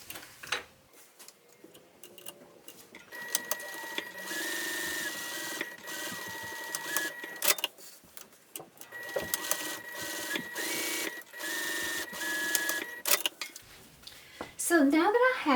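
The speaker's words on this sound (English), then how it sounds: "I'm going to go ahead and sew these now." Pieces of a mini tote bag run through a sewing machine in long, steady whirring stretches with brief pauses between seams, close and fairly loud.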